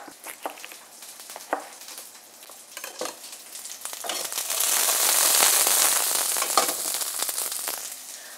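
Zucchini pieces with skin, cut small, hit hot fried onion in a pan and a loud, steady sizzle swells up, with scattered stirring clatters and spatters through it.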